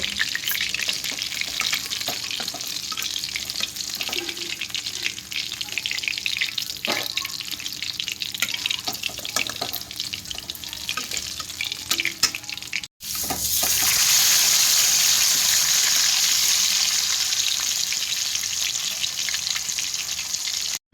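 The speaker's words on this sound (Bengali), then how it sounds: "সব মাছগুলো আমি এমনি করে ভেজে নেব" Bhetki fish fillets sizzle in hot oil, a dense steady frying hiss with occasional clinks, jumping to a louder, fuller sizzle after a cut partway through.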